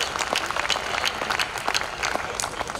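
A school audience breaks into applause for a visiting speaker, a dense, steady roar of many hands clapping throughout, fairly loud and close, with no talk.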